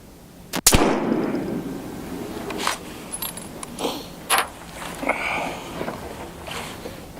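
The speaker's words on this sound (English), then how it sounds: "Alright, this will be the last shot." A single sharp rifle report from a 30-40 Krag Remington cracks near and loud, followed by a decaying outdoor echo and then faint rustling, clicks and handling noises.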